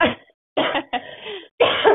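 Several harsh coughs in quick succession, close and loud, separated by brief pauses.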